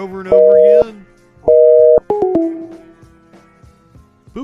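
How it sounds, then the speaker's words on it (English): A telephone sounds while a number is dialed: two steady held tones, each under a second long, then a short run of quick stepped beeps, all loud and close, followed by faint handling noise. "Is it not entertaining watching me dial a number over and over again?"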